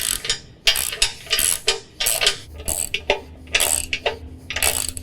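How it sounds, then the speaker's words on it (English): Hand ratchet tightening bolts on a John Deere Z5 zero-turn mower footrest kit, with rapid bursts of close, loud clicking strokes repeated in an uneven rhythm. "And then once again, just tighten those up."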